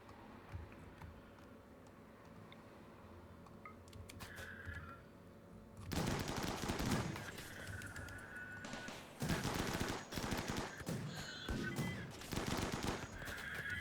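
Bursts of gunfire from colonists in Rimworld, dense crackling volleys starting after a quieter stretch and continuing in two sustained barrages over a low game background.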